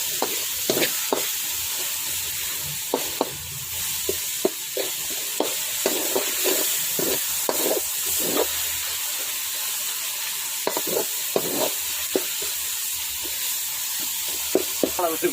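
Tomatoes sautéing in a pan, a continuous hiss and sizzle of frying with repeated scraping clicks of a spoon stirring at an irregular pace, close up.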